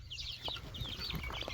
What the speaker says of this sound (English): Shauna's gonna go ahead and release the bantams